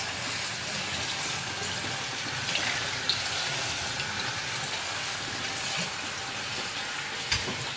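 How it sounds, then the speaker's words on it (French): Water runs steadily over chopped vegetables being rinsed in a colander, a continuous close hiss and patter with a few small clinks, no talking. "On va rincer dans une passoire."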